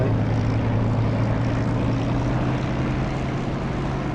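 A simulated aircraft engine roars at takeoff power in the DCS flight simulator game, a loud, steady drone with a constant low hum that holds throughout without voices.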